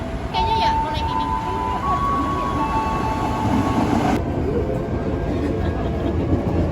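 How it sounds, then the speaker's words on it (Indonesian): Interior of a commuter train halted at a transit station, with a steady low rumble of the carriage and faint tonal hums and whines, a sharp drop in high hiss partway through, as people talk nearby. "Nah sekarang kita udah ada di dalam kereta ini. Ini lagi transit"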